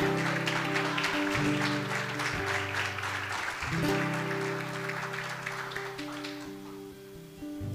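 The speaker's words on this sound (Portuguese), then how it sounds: "Pode aplaudir ao Senhor." Church congregation applauding the Lord, a sustained wash of clapping from many hands under a held organ or keyboard chord, fading slightly toward the end.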